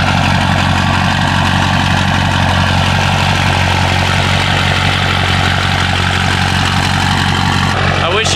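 A Ford 6.0 Powerstroke diesel truck engine, non-VGT, runs with loud exhaust, a continuous heavy roar and drone that stays at full loudness, with speech mixed in beneath it.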